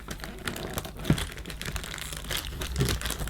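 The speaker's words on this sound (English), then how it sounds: "Let's try and get this removed from the packaging." Plastic packaging from an advent calendar gift crinkles and crackles up close as it is handled and pulled open, with irregular sharp rustles and snaps throughout.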